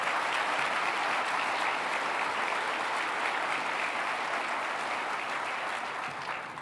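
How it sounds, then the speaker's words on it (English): Dense, steady applause from a large audience at a Phoenix State of the City address, a continuous wash of many hands clapping at once that holds loud and even before tapering slightly at the end. "let's give a big round of applause"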